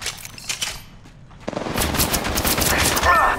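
Rapid bursts of automatic gunfire in the mobile shooter game Apex Legends Mobile, loud and close, building into a dense volley that grows steadier and more intense toward the end.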